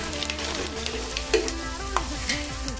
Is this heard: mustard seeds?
yes